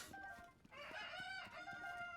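Chickens in Zelda: Tears of the Kingdom, a roosting flock of cuckoos, cluck and crow steadily and loudly throughout, with several overlapping birds close by.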